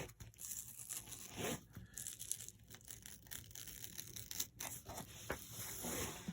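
Scissors slice through three layers of 1.5 ounce kite fabric in a series of quiet, close snips and crisp tearing rasps, with soft shuffles between cuts.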